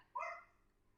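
A puppy lets out a single short, faint bark, a brief yelp heard alone in a quiet room.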